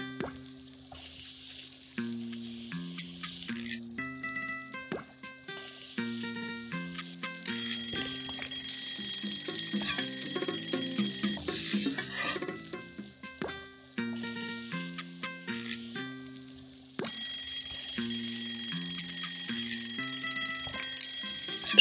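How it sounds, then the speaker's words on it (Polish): Ringing bell alarms in the Papa's Taco Mia cooking game, repeated bright chimes and trilling rings over a steady looping game melody, no talking. "bo wszędzie ciągle wszystko dzwoniło"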